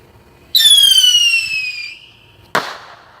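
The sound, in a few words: fireworks going off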